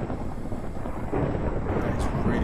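Thunder rumbles in the blocky video game Minecraft, a deep, continuous low roar that swells slightly toward the end and fills the whole moment without any voices.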